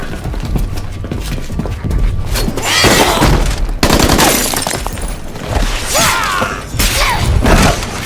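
Gunfire in a chaotic X-Men movie action scene: bursts of loud shots and booms with clattering mechanical noise, dense and overlapping, with brief shouted voices amid the din.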